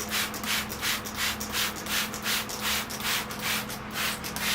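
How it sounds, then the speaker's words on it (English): Soap and water sprayed from a hand sprayer onto a bonsai tree, a rhythmic series of about a dozen short hissing bursts close to the microphone, evenly spaced over a low background hum. "I'm going to spray it down with soap and water"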